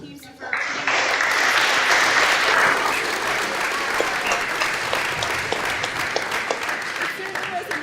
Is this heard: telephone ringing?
no